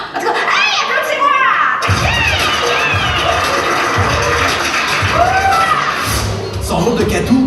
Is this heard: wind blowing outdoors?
no